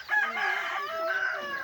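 A tall chicken among native farm fowl crows close by, one steady drawn-out call lasting the whole moment, with no talk over it.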